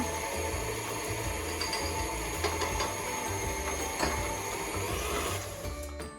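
An electric mixer creams butter and sugar for cookies, its motor whirring steadily and loud with a rhythmic rattling, close by with no talk.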